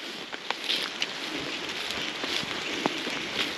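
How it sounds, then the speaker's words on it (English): Warm summer rain falls in a canyon in Armenia, heavy drops pattering softly and irregularly with scattered sharper taps over a faint steady hiss, quiet and without talk. "There a bit of rain set in. That typical summer rain"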